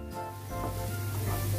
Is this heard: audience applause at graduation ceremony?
no